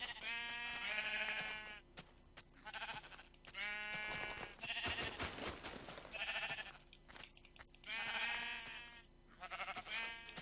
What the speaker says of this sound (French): Oh, un mouton noir. Ah, plein de moutons.